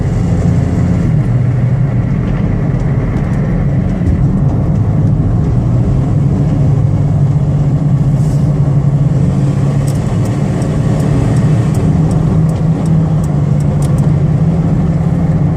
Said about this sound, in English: get it out on the highway so you can hear the engine run